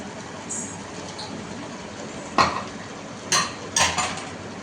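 Soaked rice being stirred in a pot for tomato rice: a quiet background hum, then three clear scraping knocks of a spoon against the pot close by, the last two in quick succession.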